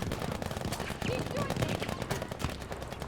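Rapid automatic gunfire comes from the right in a first-person shooter video game, with dense bursts of machine-gun shots cracking nearby at an uneven rhythm. A player talks excitedly over the shooting.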